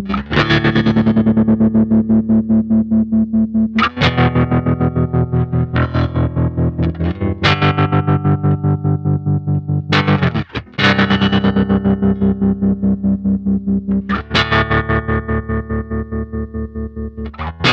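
A Squier Classic Vibe Precision Bass through a Baltimore Sonic Research Institute EVT tremolo pedal plays sustained chords and notes with a rapid pulsing throb, loud and close, changing every couple of seconds with no voices.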